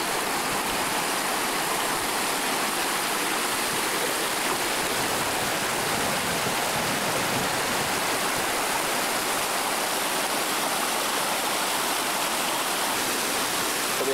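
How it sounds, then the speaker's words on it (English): A small river pours over a berm like a little waterfall, a steady, dense rushing of water close by, unbroken throughout with no voices. "this is a small little river, kind of like a waterfall too"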